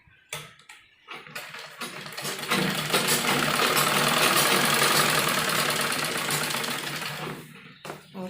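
An electric sewing machine stitching the fitting seam of an umbrella frock, starting with a few short bursts, then running in one fast continuous whir of needle strokes before slowing to brief stops at the end.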